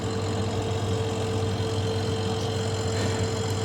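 Small deep freezer compressor running after a fan motor replacement, a steady low hum with a constant tonal whine, smooth and unbroken throughout.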